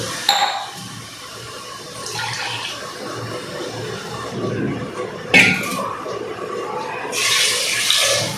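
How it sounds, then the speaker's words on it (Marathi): Two glasses of water are poured into a pot of chicken curry seasoned with chilli and salt, giving splashing gushes in separate bursts close to the listener. "2 ग्लास पाणी टाकणार."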